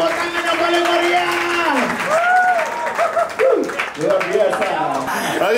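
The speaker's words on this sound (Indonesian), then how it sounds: "Tepuk tangan yang paling meriah." Crowd applause and cheering at an outdoor reggae charity concert, loud and sustained through the clip, with a voice speaking and sung or shouted tones riding over the clapping.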